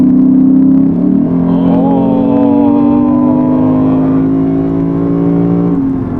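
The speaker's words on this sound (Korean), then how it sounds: "배기음이 상당히 듣기 좋네요." A Lexus GS F, a large-displacement Japanese sports sedan in normal mode, sends out a loud, steady exhaust drone that climbs smoothly in pitch as it accelerates. The sound is close and continuous, with no talking.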